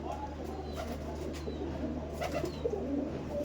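Green Giribaz pigeons coo softly in a low, murmuring chorus against steady background hum, with a few faint chirps mixed in.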